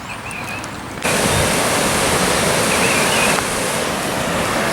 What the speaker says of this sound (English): Salmon jumps are fairly high today, which all this snow's been melting and going down into the river